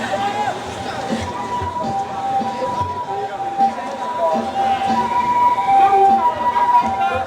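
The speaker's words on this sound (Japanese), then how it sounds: "救急車通ります。" Ambulance siren sounds steadily amid a noisy street during a danjiri float festival procession at an intersection in Osaka, with a loudspeaker voice and crowd talk over the continuous wail.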